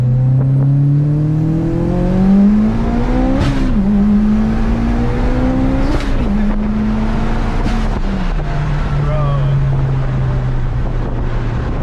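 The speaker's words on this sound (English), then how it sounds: "The exhaust sounds so good, man." A Mitsubishi Evo track car with about 400 to 600 wheel horsepower, air conditioning and power steering, its exhaust droning and rising in pitch through several gear pulls, heard close from inside with wind rush and no talk.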